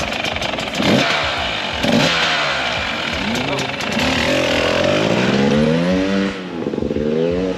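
Hard enduro motorcycles at Red Bull Romaniacs 2021 descend from a mountain summit, engines revving and snarling at close range in rising and falling bursts, with a voice talking over them.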